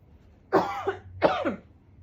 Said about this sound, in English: I really need to cough